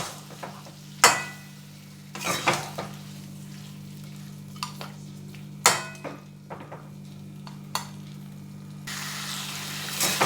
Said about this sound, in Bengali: সামান্য একটু জল দিয়ে দিচ্ছি নেড়ে মিশিয়ে দিচ্ছি